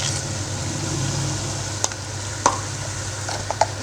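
Chicken pulao frying in a pot as spices go in and get stirred, a continuous soft sizzle under a low steady hum, punctuated by a few sharp clinks and scrapes of a spoon against the pot.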